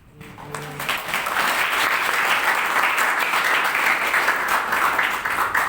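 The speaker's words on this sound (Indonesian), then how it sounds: "Kamu boleh nggak tepuk tangan untuk dirimu sendiri?" A church congregation at a sermon applauds itself, a dense, steady wash of many hands clapping that swells in quickly and holds evenly throughout.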